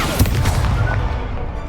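The Incendio fire spell in Hogwarts Legacy lands as a dense, booming burst with crackling pops, followed by a steady rumbling roar for under two seconds.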